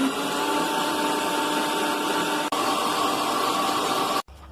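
An electric blender whirs loudly and steadily as it beats savory cake batter, a constant high motor drone that cuts off abruptly near the end.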